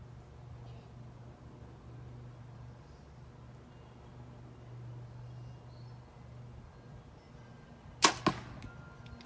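An arrow loosed from a compound bow using a Spot Hogg Wiseguy index release: one sharp, loud snap after several seconds of quiet outdoor ambience, with a quick second thud just after.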